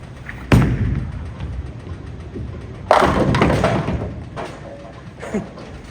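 A bowling ball tested on a lane strikes the pins twice, each a sharp crash followed by a clattering tumble, with a smaller knock near the end, heard fairly close over low room noise.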